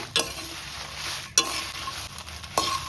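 Dry red chillies are dry-roasted without oil in a pan for rasam powder, a soft scraping and rustling stir with three sharp clinks of a spatula against the pan, close up.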